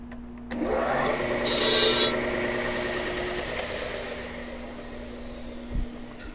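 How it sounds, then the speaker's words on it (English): A wooden pen end is sanded on a spinning lathe with a high, steady whirring hum and a rubbing hiss, close and continuous for about four seconds before fading. "I just need to kind of quickly sand this end."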